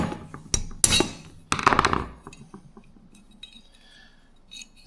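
A strain relief nut being fitted onto cable for an electrical outlet install, a few sharp metallic clinks and clicks followed by quieter fiddling noises, close and alone with no talk.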